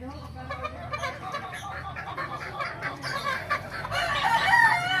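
Backyard chickens in Pulilan, Bulacan, cluck and stir around a yard while a rooster crows, the calls rising louder toward the end, with someone talking over the flock at moderate distance.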